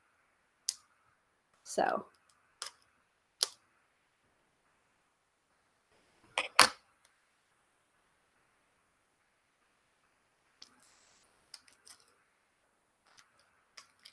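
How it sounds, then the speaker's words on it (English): Scissors snip plastic shrink wrap away from a Diablo Tarot card deck, giving a handful of sharp, close clicks spread across quiet stretches, with a brief spoken word and faint rustling near the end. "I can cut up and away and not even touch the cards at all with these scissors"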